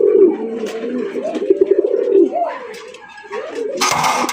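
A white male Bombay pigeon coos repeatedly up close, low rolling throaty calls in a rhythmic series, with a brief burst of noise at the end.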